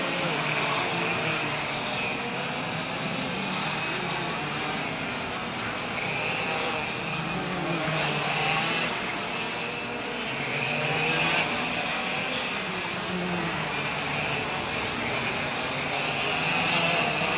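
Racing karts at a ROK Cup race at Orlando Kart Center whine at high pitch throughout, engine tones rising and falling as the machines brake and accelerate through the corners, steady and mid-distance.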